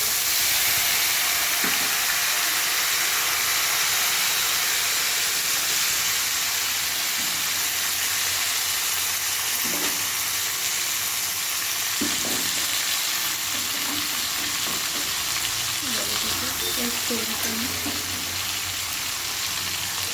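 Tomatoes drop into hot oil in a wok, tempered with bay leaf, dried red chilli and cumin seeds for a Bengali cabbage curry. A loud, steady sizzle runs throughout, with occasional soft stirring clicks and no voices.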